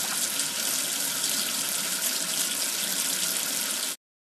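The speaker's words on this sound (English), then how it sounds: "Wash away the soap with water." Water runs steadily from a tap to rinse soap off, a loud continuous gushing splash that fills the clip alone and then cuts off abruptly.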